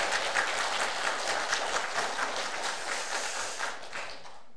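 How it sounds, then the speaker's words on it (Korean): A church congregation applauds the choir warmly, a dense steady patter of many hands that holds for several seconds before tapering off at the end. "큰 격려 박수 한번"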